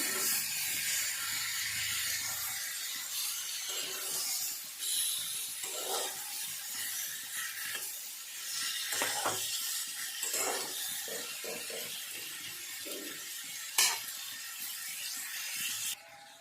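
Raw green tomato frying in a pan gives a steady, quiet sizzle and hiss with occasional clinks and scrapes of stirring, close by and without talk.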